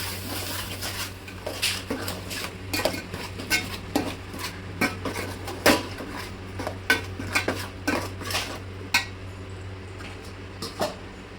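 Ground paste is stirred into a pot of vanjaram fish curry, with a spoon scraping and clinking against the pot in a steady rhythm of sharp, close strokes over a low background hum.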